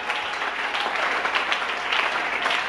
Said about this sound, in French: Est-ce qu'on peut acclamer fortement?